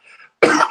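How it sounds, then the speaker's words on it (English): A single loud, harsh cough bursts out close by after a faint throaty breath, cutting off abruptly. "apologize for the coughing."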